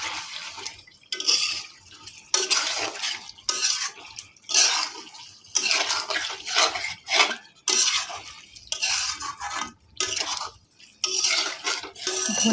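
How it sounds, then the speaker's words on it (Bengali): Cashew and spice paste for dhaniya chicken is stirred and mixed close up in a pan, about ten rhythmic scraping bursts separated by short pauses. "এটাকে ভালো করে মিশিয়ে নিচ্ছি।"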